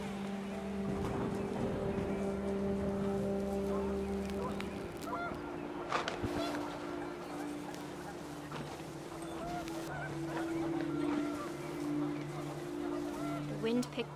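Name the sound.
panicked geese honking in the video game What Remains of Edith Finch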